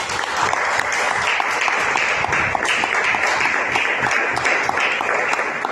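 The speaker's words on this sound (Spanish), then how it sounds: "Demos un aplauso al Señor, por favor." A church congregation at a Spanish-language evangelical worship service bursts into sustained applause for God, a steady, dense wash of many hands clapping close by for several seconds, with no talk over it.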